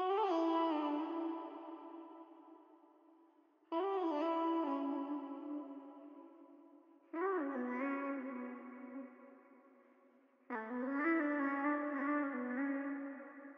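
Four sustained vocal chops of self-recorded vocals with pitch-corrected, slightly robotic auto-tune tone, each starting sharply and fading under echo and reverb, a few seconds apart.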